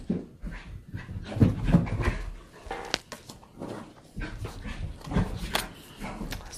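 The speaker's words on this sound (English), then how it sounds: "my very frisky puppy Bishop is running around and playing." A frisky puppy named Bishop pants and romps around indoors, quick breathy panting bursts with small whimpers and a yip, close by and uneven as he moves.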